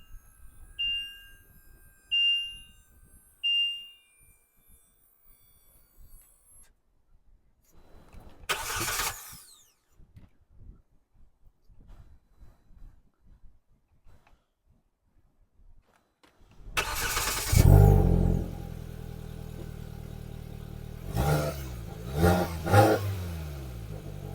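A 2022 Polaris Slingshot engine cranks and catches after a quiet stretch with faint clicks and a few chimes, then idles steadily with a couple of light revs, close and loud.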